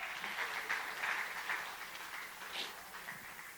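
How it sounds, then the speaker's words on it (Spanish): Faint, soft clapping from a church congregation, a steady wash of applause at a distance, fairly quiet and even throughout. "Dale ese aplauso a Dios."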